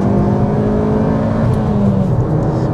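A Ford Fiesta S1600 hatchback engine revs hard toward 7,000 rpm and steadily climbs in pitch, a loud continuous drone with no voices.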